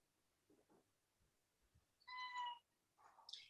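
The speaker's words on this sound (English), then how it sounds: "If you hear meowing in the background," A cat meows once, clear and fairly close, followed by a shorter rising meow; faint rustling before it in an otherwise quiet room.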